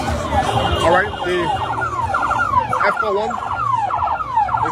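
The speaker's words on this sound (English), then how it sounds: "you can hear the wailing of the siren in the background" Police siren wailing outside a stadium on an AFCON qualifier match day, Liberia versus South Africa in Monrovia, with rising and falling sweeps repeating steadily and loudly over crowd and traffic noise, and a voice speaking briefly.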